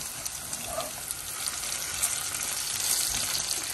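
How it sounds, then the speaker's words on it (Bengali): Panch phoron spices crackle in hot oil, a dense, steady sizzling hiss with faint pops, close and continuous. "এখন আমি পাঁচফোড়নটা তেলের ভিতরে দিয়ে, তেলের ভিতরে দিলে তাড়াতাড়ি ফুটে যাবে"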